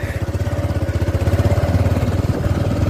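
A motorcycle engine thrums in a steady, fast low pulse while the bike is ridden along a rough road after rain, close and continuous for the whole stretch.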